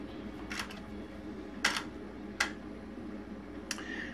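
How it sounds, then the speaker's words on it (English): A single-lens reflex camera fires several times in a quiet room: sharp isolated clicks of the mirror flipping up and the shutter releasing, spaced with pauses between, over faint background hum. "First click will be the mirror slopping up out of the way"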